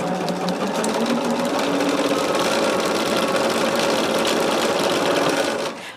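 Sewing machine stitching quilt blocks in one steady, loud, continuous run lasting several seconds before it stops abruptly.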